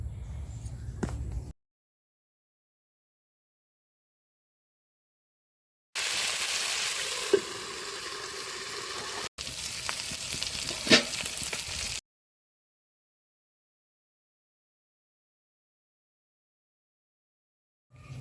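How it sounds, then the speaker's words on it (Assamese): Chicken meat with whole cumin hits hot mustard oil with a broad hissing sizzle that lasts several seconds with a brief break and a couple of soft knocks, set between long silences. "তাতে মই গোটা জিৰা কেইটামান দি মাংসখিনি বহাই দিলোঁ।"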